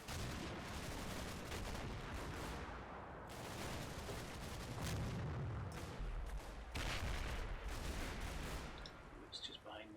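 Battlefield combat from the video game Combat Mission: Battle for Normandy, with repeated heavy gunfire and booming blasts, including a large explosion, rolling on loudly and continuously throughout.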